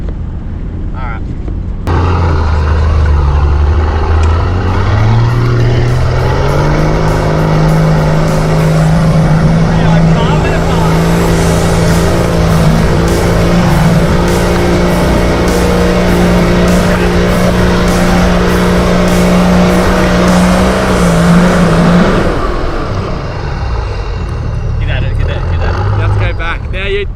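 A 4WD engine revs hard and steadily for about twenty seconds as it pushes through deep snow on a steep slope in an Australian snowstorm, the engine note climbing then holding high and loud close by, with voices talking over it.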